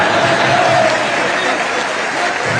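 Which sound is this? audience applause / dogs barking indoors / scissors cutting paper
audience applause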